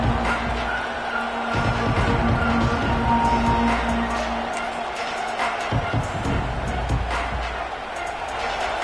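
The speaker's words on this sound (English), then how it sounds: "Listen to the crowd energy here in the early going." A large stadium crowd at a college football game against Missouri State roars steadily in the background, a broad noisy wash of cheering that swells and dips slightly, with faint voices mixed in.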